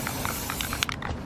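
A spray paint can hisses steadily as it sprays a light first coat onto bike pegs, close and continuous with slight sputters, no voices.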